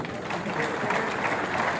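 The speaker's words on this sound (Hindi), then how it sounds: "आप भी जोरदार तालियां बजाइएगा" Dense, steady applause from a large crowd at a Hindi ceremony. The clapping is loud and continuous throughout, with a murmur of voices underneath.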